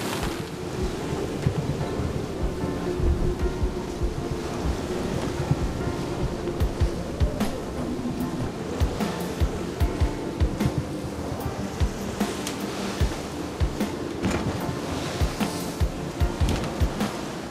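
Strong force 7 to 8 wind and breaking waves at sea aboard a single-handed sailboat about 10 nautical miles off Öland, a steady loud roar of gusts and sloshing water that continues throughout with no talk.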